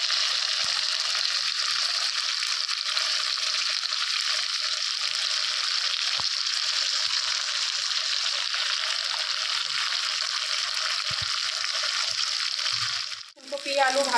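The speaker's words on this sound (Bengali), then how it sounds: "ভালো করে কিন্তু এখন হচ্ছে মিশিয়ে নিচ্ছি। ভালো করে কষানো হচ্ছে।" Cauliflower, potato and spices being sautéed in a pan give a steady, close, bright sizzle that hisses continuously for many seconds, then ends with a short shuffle of stirring and a clatter.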